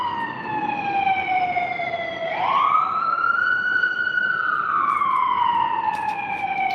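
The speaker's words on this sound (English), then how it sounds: "You hear the ambulance?" Ambulance siren wailing in long rising and falling sweeps, loud and sustained as it passes, with a steady traffic rumble underneath.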